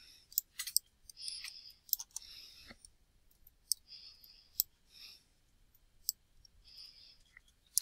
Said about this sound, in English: I'm going to try to type to make it a little cleaner to see.